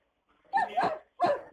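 A dog barks twice in quick succession, close and fairly loud, with silence before the first bark.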